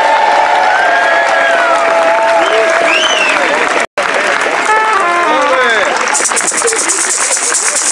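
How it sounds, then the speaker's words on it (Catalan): A crowd of CDR activists from Camp de Tarragona gets loud, sustained applause with cheering in a large gathering at Lledoners. The dense clapping carries on throughout, with a brief cut midway and voices mixed into the noise. "Un fort aplaudiment."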